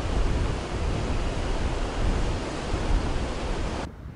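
Ocean surf breaking below a coastal bluff in Yuraygir National Park, New South Wales, a steady broadband roar of waves with some wind, continuous and fairly loud before cutting off abruptly near the end.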